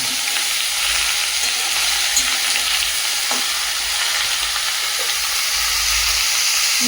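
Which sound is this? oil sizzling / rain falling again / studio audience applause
oil sizzling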